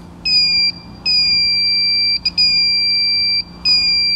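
A car horn blasts loudly in a series of sustained, steady tones with short gaps between them after its connector is plugged back in during a horn circuit check, heard alone with no talking.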